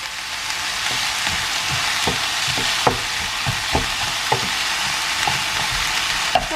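Onions sizzling in a frying pan for Italian stuffed peppers, a steady close hiss with soft clicks of stirring scattered through, no talk.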